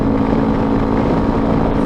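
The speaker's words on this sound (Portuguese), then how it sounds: "ele é uma ponteira esportiva Roncar. O barulho não é um barulho ensurdecedor" A Yamaha Tenere 250 motorcycle fitted with a Roncar sport exhaust tip runs steadily on the highway, its low engine drone continuous and fairly loud, with wind rushing over the microphone throughout.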